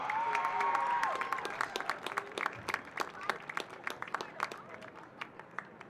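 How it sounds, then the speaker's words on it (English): Crowd applause for high school soccer seniors at a home game, steady clapping with a few cheers that thins into scattered individual claps, heard from within the stands. "please give these seniors one last round of applause"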